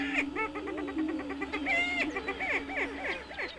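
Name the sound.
booming of Attwater's prairie chicken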